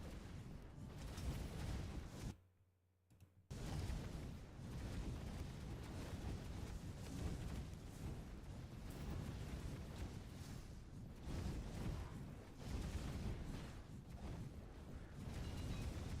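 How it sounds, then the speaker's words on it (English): Explosions in the action game Death Must Die form a dense, continuous rumbling barrage of overlapping blasts, broken by one brief lull near the start before resuming at full intensity. "So it's kind of a clusterfuck of explosions."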